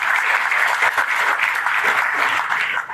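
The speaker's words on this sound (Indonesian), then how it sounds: "Tepuk tangannya ikhlas buat beliau" Audience applause for a speaker at a religious talk, steady and dense clapping from many hands that is fairly loud and continues without a break for three seconds.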